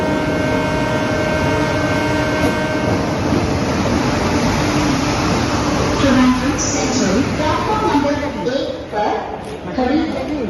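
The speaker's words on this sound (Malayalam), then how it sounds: "അല്പസമയങ്ങൾക്കകം തന്നെ ഇവിടേക്ക് വിവേക് എക്സ്പ്രസ് എത്തിച്ചേരും." The Vivek Express pulls into Thiruvananthapuram Central railway station with a steady, loud rumble and hum of the moving train. A horn-like tone shows early on, and station noise rises near the end.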